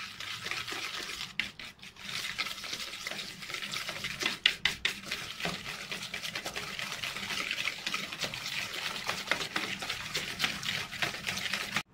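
Butter and ground sugar beaten in a bowl with a hand beater for eggless chocolate chip cookie dough, giving a close, continuous scraping and churning sound with irregular clicks and knocks throughout.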